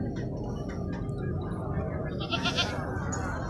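Jattan goats bleat amid the busy din of a goat market in Tando Adam, with a few short cries rising over a constant crowd and livestock murmur.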